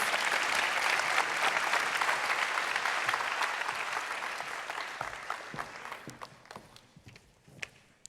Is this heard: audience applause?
yes